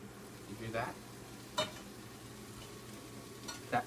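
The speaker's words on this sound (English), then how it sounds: "That sizzle lets you know that one side is being toasted." Buttered bread for grilled cheese sizzles steadily in a pan, a soft continuous frying hiss with a few faint clicks and taps from utensils over the top, no talking.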